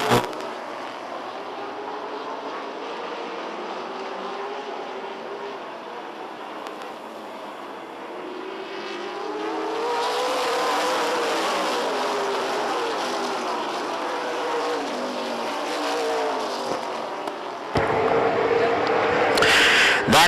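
Race cars accelerate after the green flag, a rising and falling engine roar that swells loudly as the cars pass, then surges again near the end, with no talk heard.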